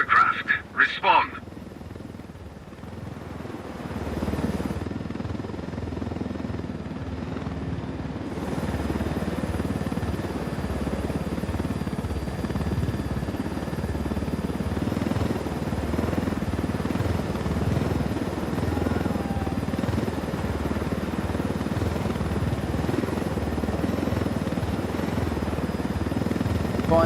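Helicopter flying low in the video game Ghost Recon Wildlands, a steady whirring rotor drone held throughout after a few brief sharp sounds at the start, with voices speaking over it.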